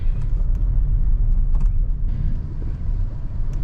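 A Suzuki Fronx Alpha with manual transmission cruises along, giving a steady low rumble of engine and road noise heard from inside the cabin, with faint creaks and knocks and no talking.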